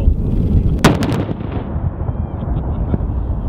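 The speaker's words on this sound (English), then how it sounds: "So it's gonna be quite an explosion this time." An EOD demolition shot in Kuwait sets off ordnance in shot holes, including 105 rounds, Bangalore torpedoes and large MICLICs. One sharp, loud blast and a few quick cracks are followed by a long rumbling echo.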